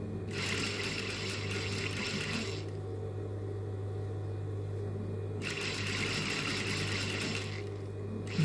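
An electric sewing machine runs in two fast, steady bursts stitching fabric along an elastic seam, with a short pause between and a constant low hum throughout.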